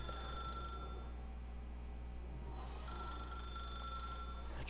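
A telephone rings steadily in a video game, a continuous electronic bell tone with a low hum underneath and no voices.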